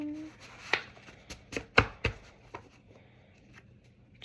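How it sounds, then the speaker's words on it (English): A deck of paper flashcards is shuffled and split by hand, giving a few sharp riffling snaps and taps against a quiet background. "I'm going to shuffle my deck"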